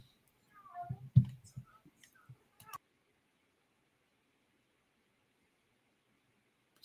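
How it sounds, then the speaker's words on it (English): A cat meows indoors in a quiet room, giving a few short, fairly faint cries in the first seconds, followed by near silence. "just telling my cat to shut up"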